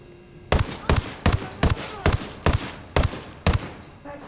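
HK416 assault rifle fire in Ghost Recon Wildlands: eight loud, sharp shots in a fairly even rhythm over about three seconds, each with a short echoing tail.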